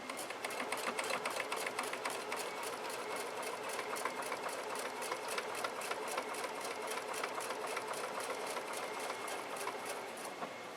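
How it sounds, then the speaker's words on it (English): A sewing machine stitches a fabric bowl cozy in a fast, even, continuous run of needle clatter over a soft motor whir, close and steady, with no talking. "Put my needle down into that dot and sew off to this one."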